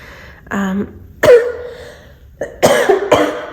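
Several harsh, close coughs in quick bursts with brief pauses between them, loud and raspy, with no talking.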